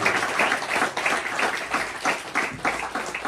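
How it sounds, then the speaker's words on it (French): A church congregation applauding during a French-language worship service, a dense wash of hand claps pulsing in rhythmic bursts with faint voices mixed in. "Applaudissez Jésus, alléluia, alléluia."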